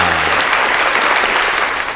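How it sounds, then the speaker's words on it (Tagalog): Dense, steady applause from a crowd, loud and close, filling the whole stretch without a break; a faint voice sits underneath at the very start. "pumapalakpak ka kaagad, wala pa eh"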